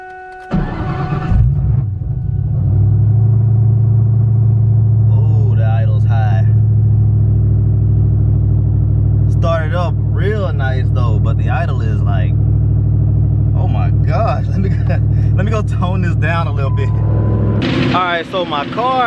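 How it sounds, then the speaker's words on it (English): A Ford Mustang Cobra cranks briefly, catches and settles into a loud, deep idle that holds steady and close, with a faint surge in the idle. A voice talks over the engine partway through. "time for me to go ahead and crank it up and see."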